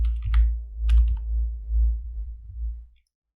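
Keys tapped on a computer keyboard while a name is entered for a data lakehouse, a short run of light clicks over a low hum that stops after about three seconds.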